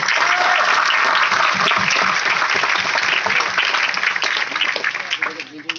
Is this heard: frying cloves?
no